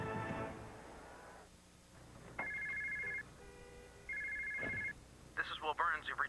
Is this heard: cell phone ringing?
yes